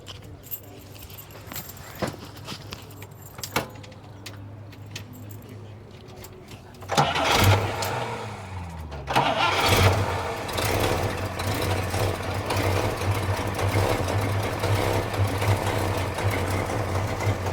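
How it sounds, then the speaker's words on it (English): A classic Pontiac's engine is started at a car show: keys jangle, the starter cranks for a couple of seconds, then the engine catches and settles into a loud, steady idle. "I have had finished cars take a lot longer to start up than this."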